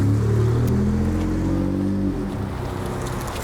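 A 2018 Ford F-150 pickup with an aftermarket exhaust in Sport mode rumbles loudly with a deep, throaty exhaust note, its pitch rising then dropping as the revs fall back to a steady idle.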